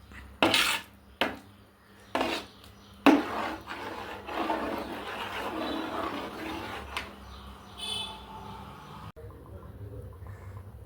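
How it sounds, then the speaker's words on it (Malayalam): Thick jackfruit pulp with jaggery syrup is stirred in an uruli pot: a few sharp knocks of a ladle at first, then a long, steady scraping rub against the metal that fades to a quiet end. "ഇനി നന്നായി ഇളക്കി കൊടുത്ത് അത് നന്നായി വരട്ടി എടുക്കുക"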